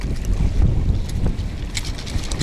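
Strong wind roars and buffets the microphone in gusts on an ice-fishing trip, a steady rumbling rush with occasional higher hissing flares, no one speaking.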